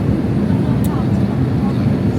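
Airplane cabin noise in flight, a loud, steady low roar of engines and airflow that fills the whole stretch without letup, with no break or change in level.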